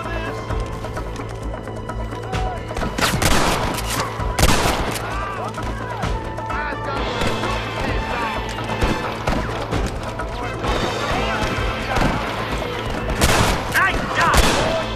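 Gunfire in Red Dead Redemption cracks out in scattered loud shots over a busy western game scene with horse hooves, neighing, crashes and voices talking.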